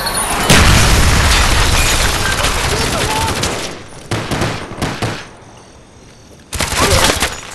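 Call of Duty Black Ops napalm strike sets off loud, close bursts of booming explosions and rattling fire, long roaring stretches broken by short gaps, with a final blast near the end.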